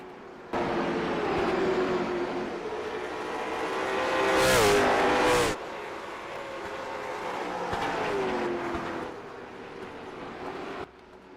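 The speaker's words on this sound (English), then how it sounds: "listen to the sights and sounds of these cars ripping it around Nashville Fairgrounds Speedway" Race car engines roar around Nashville Fairgrounds Speedway in a racing video game, a continuous loud drone with revving surges and a sharp passing burst near the middle, then fading out; no voices.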